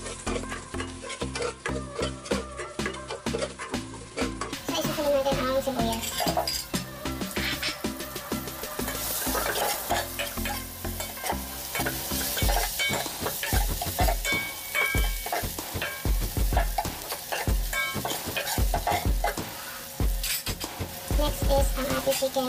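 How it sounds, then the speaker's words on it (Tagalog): Garlic sautéing in a frying pan while being stirred for a chicken macaroni soup, a continuous close sizzle broken by scraping and stirring, no voices. "magigisa na tayo ng bawang"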